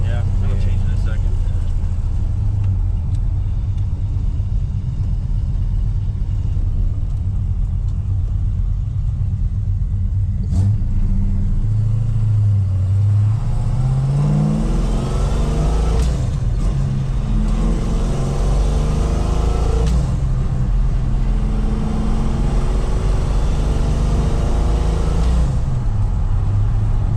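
A 1968 Oldsmobile 442 engine rumbles loudly from inside the car and rises in pitch through several gear changes, with the revs climbing and dropping between shifts while people talk over it.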